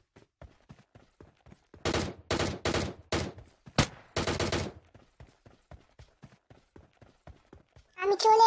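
Gunfire in PUBG Lite: several sharp, loud bursts of shots cluster in the middle, with a last burst near the end, between quiet stretches of faint footstep-like taps.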